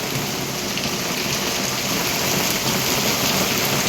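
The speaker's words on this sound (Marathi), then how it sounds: "खूप मोठा पाऊस आला खूप मोठा" Heavy rain pouring down on a morning in a village, a dense, loud, unbroken roar of falling water with no voices.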